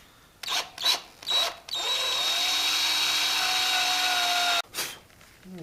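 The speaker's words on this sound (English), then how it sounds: "We're going to see if we can gently drill just a little bit into this" A few short handling clatters, then a power drill with a Forstner bit whirs steadily into leather for about three seconds before stopping abruptly, followed by another brief knock.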